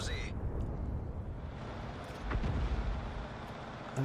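A Sturmpanzer II fires a heavy artillery shell in a tank video game, giving one deep booming report that rolls out over a low background rumble, with a player's voice talking around it.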